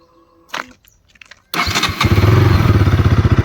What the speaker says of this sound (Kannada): engine sound ಕೇಳೋದಾದರೆ